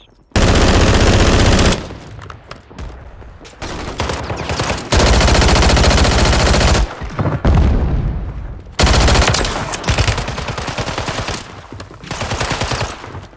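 Gunfire in the video game Warzone, loud sustained bursts of automatic fire broken by short pauses, repeating in several long volleys across the clip, close and dominant.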